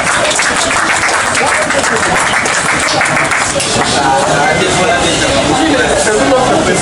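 Audience applause at a Kinshasa forum's New Year greetings gathering, a dense steady wash of clapping that fills the whole stretch at close, even loudness, with crowd murmur mixed in.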